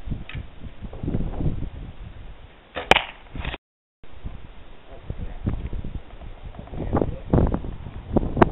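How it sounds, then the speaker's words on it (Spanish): An archery arrow is released and strikes the target with a sharp impact, heard among wind noise and faint outdoor sounds, with a second similar hit later. "Mantenga su forma hasta que escuche la flecha en el blanco."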